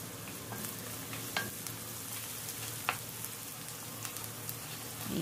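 Broth with bouillon cubes, for a pancit guisado, is stirred in a pan, giving a soft steady sizzle and bubbling hiss with occasional light spoon clinks, quiet and close, without speech.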